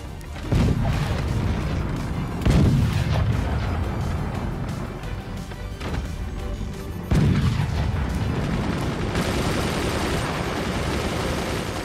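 Tier 3 cannons fire in the strategy game Forts, producing a series of heavy booming shots at irregular intervals, each with a deep thud and long rumbling decay, loud and close, over a constant background din.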